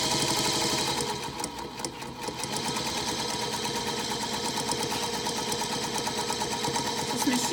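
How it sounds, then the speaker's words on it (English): Sewing machine running steadily while stitching forwards and backwards, a continuous loud rapid mechanical whirring with a fine regular needle clatter, close and uninterrupted. "We're going to go ahead and do some forwards and backwards stitching as we generally always do"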